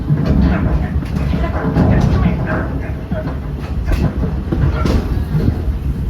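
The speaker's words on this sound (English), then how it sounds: "It's a train." A Walt Disney World Railroad train in the Magic Kingdom rumbles past nearby with steady clattering of wheels on track and soft scattered clicks, while faint voices murmur underneath.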